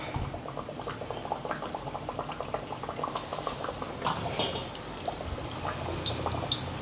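Hand-pressed rice dough for chethi chekkalu sizzles in hot frying oil, a dense, steady crackle and bubbling that stays close and moderately loud with no talk over it.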